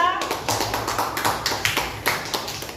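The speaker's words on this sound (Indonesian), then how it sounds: "Kasih aplaus kelompok 2" A classroom group claps for fellow students' group two: a quick, steady run of close hand claps that continues through the whole stretch, with faint voices underneath.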